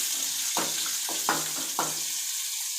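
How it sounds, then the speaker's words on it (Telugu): Onions sizzle in hot oil in a pan with a steady bright hiss. Several soft scraping stirs cut through it, and the cooking sounds close and fairly quiet, with no talking. "ఫస్ట్ బాండీ పెట్టుకొని ఆయిల్ వేడిన తర్వాత ఉల్లిపాయలు ఇందులో వేసేస్తున్నాం."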